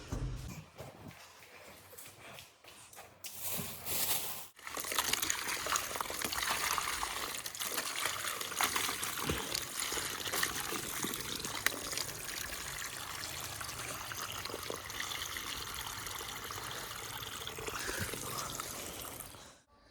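Water poured to fill a chicken waterer on a small farm, a steady splashing stream running for most of the span after a brief quieter start, close and continuous with no talk.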